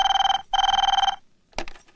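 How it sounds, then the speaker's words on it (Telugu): A telephone bell rings in a home, two loud electronic ring bursts separated by a short gap, followed by a voice speaking. "మాధవి, కొంచెం ఫోన్ చూడు."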